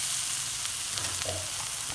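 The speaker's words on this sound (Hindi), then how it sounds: "सब मसालों को साथ साथ इसके अंदर हम मिक्स करते जाएंगे" Spices for samosa chaat, including chili flakes and chili powder, are stirred in a hot pan, giving a steady, close sizzle and frying hiss with faint scraping of the spoon throughout, no voices.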